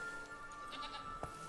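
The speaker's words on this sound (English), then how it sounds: "Is that a goat in pants?" A goat in pants in the video game The Witcher 3: Blood and Wine gives a short, faint bleat under a steady low tone and quiet ambient game sound.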